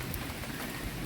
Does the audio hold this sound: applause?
no